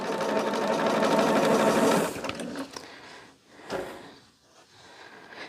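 Sewing machine stitches blue and white quilt blocks with background fabric into four-patches, running loud and steady for two seconds, then stopping to softer fabric handling and a short burst of stitching.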